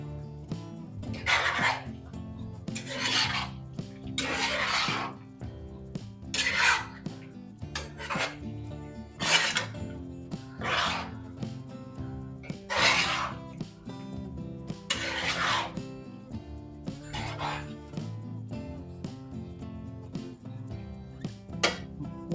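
Chicken masala curry is stirred in a pan, the spoon scraping in regular bursts of rasping strokes over a low background hum, with no one talking.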